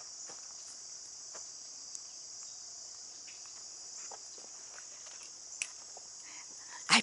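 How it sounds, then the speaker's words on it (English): Insects drone steadily in a perennial cottage garden, a continuous high-pitched whine that holds at an even level for the whole stretch, with a few faint ticks and a brief louder rustle at the very end. "you'll hear all the mosquitoes around me."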